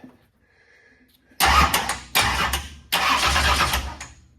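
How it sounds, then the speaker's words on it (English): A drag-racing engine cranks over in three loud bursts of rapid, rhythmic turning to run the valves, each about a second long with short gaps, close by after a quiet start. "so I can crank the engine to run the valves"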